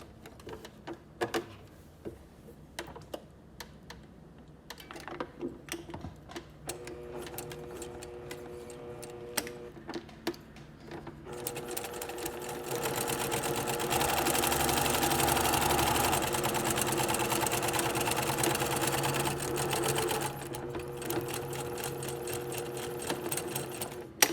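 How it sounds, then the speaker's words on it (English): Sewing machine running a straight quarter-inch seam with backstitching, sparse ticks and short stitching bursts at first, then a steady, loud continuous whir through the middle before easing off near the end; no talking. "we're going to begin by first sewing all the way down at 1/4 inch seam allowance, and we will do a back stitch at both the beginning and end"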